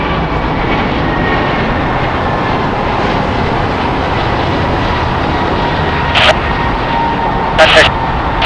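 An American Airlines Airbus A321neo jet at LAX roars as a loud, steady engine wash of broadband noise, with brief crackles near the end.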